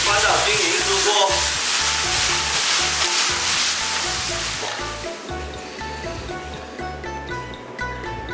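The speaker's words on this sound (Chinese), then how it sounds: "牛肉下去翻炒30秒，辣椒圈， 把香菜放进去，翻炒均匀" Beef stir-fries with taro shreds, chili rings and cilantro in a hot wok, giving a loud continuous sizzle with rattling stirring strokes. The sizzle eases slightly toward the end. Soft music plays underneath.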